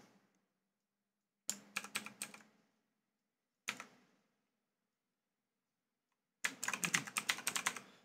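Short bursts of quick key presses on a computer keyboard, close and clear, separated by silent pauses: one burst of clicks, a single brief tap, then a longer flurry at the end.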